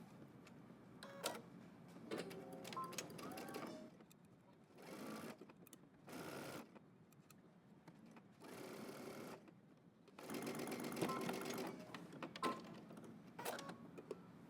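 A sewing machine stitches a dress seam in several short, quiet runs of whirring separated by pauses.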